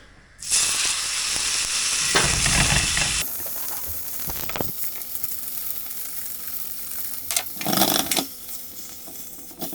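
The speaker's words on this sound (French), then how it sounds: "Je vais mettre un petit filet d'huile d'olive. Je balance mon steak." A steak dropped into olive oil in a hot pan sets off a loud, close burst of sizzling. The sizzle then settles into a steadier hiss, broken by a few clatters and a second loud flare near the end.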